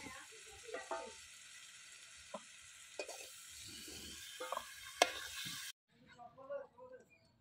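Prawns frying in hot oil give a soft steady sizzle broken by scattered crackles and pops, with utensil clinks and a brief quieter stretch near the end.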